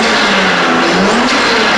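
Lexus RX300 with a turbo engine and new custom exhaust, still cold, running steadily with a light throttle rise, heard close and loud with a continuous low drone and no talk.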